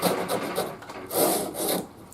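Shinto rasp shaping the wooden body of a handmade bass guitar, a few close, loud rasping strokes back and forth with short pauses between them, no voices.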